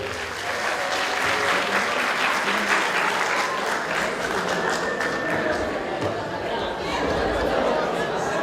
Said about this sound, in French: avec une très grande main d'applaudissements, le président Sidima Traoré